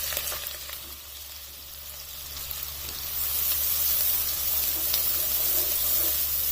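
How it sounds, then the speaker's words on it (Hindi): Sliced onion and whole cumin seeds frying in half a cup of hot oil in a pan: a continuous close hiss and sizzle that swells louder partway through, with no talking. "अब इस प्याज को इसमें लाइट गोल्डन ब्राउन कलर होने तक फ्राई कर लेना है।"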